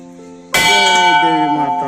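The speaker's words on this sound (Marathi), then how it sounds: "चला घंटी वाजूया" A temple bell at a Devi shrine is struck once with a sharp, loud onset, then rings on with a long shimmering metallic sustain that slowly fades, with no other sound over it.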